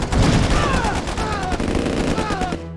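Rapid gunfire from the commando Tanya in the Command & Conquer Remastered strategy game, a loud burst of repeated shots with whistling ricochet-like tones over a game soundtrack, steady through the clip.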